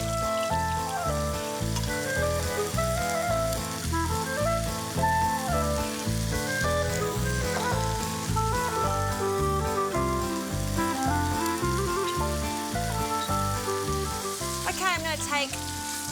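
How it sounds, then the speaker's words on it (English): Chunks of pork sear in hot oil for a stew, giving a loud, steady sizzle and crackle with occasional stirring, and no one speaking. "I'm just going to turn it in the oil and seal it on the other side."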